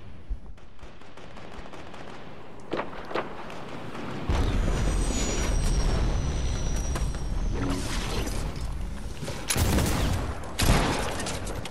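SMG gunfire rattles in a video game, with bursts of rapid shots and scattered single cracks over a noisy game backdrop. The bursts grow louder partway through.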